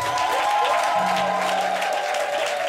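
Sustained applause from a church congregation at a Sunday dedication service for a temple in Koumassi, a dense steady roar of many hands filling the room, with a held musical tone running underneath.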